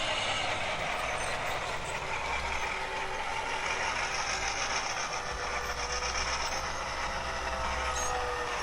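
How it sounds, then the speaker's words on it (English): A toy diesel locomotive's built-in sound effect plays steadily throughout, a continuous rumbling engine drone with a faint metallic hum, fairly loud and with no voices over it. "And now the locomotives come with sound built right in them."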